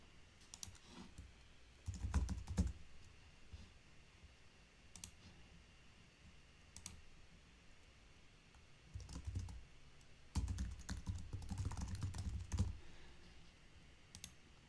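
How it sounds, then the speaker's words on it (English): Quiet keystrokes on a computer keyboard come in short bursts of clicking, with pauses between clusters of typing, fairly close and alone. "I could type in my own personal observations on this below to type my reflections"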